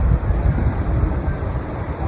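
Strong monsoon wind buffets outdoors while a kite is flown, a loud, gusty low-frequency roar battering the microphone continuously with slight surges, no voices present.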